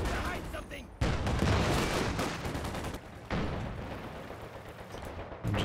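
Machine-gun and other gunfire in a Company of Heroes 2 1v1 battle, dense bursts with strong onsets near 1, 3 and 5.5 seconds, loud and continuous, with battlefield noise throughout and faint voices underneath.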